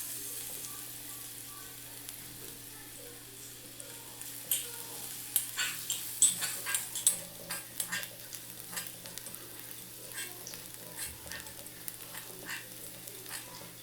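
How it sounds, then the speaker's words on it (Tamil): Finely chopped onion and curry leaves sauté in a pan, giving a quiet background sizzle broken by a run of sharp spatula scrapes and taps in the middle, then gentler stirring. "ஒரு பெரிய சைஸ் வெங்காயம் இந்த மாதிரி நல்லா பொடியாக கட் பண்ணி சேர்த்து நல்லா வதக்கிடுங்க."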